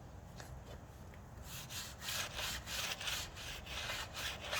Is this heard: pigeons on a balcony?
no